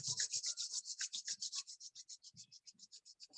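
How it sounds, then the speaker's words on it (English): Palms rubbing briskly together close up, a rhythmic series of dry swishing strokes that gradually grow softer and more regular. "Rub your hands."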